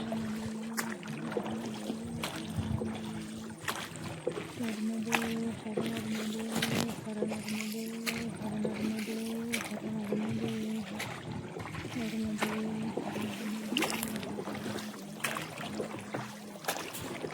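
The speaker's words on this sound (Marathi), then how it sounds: "पाणी आणि होडीमध्ये सगळे परिक्रमावासी बसलेले आहेत" A boat carrying pilgrims on the Narmada river, its engine droning steadily throughout with a low hum and faint water noise, while people talk and chant nearby.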